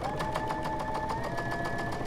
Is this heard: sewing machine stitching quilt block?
yes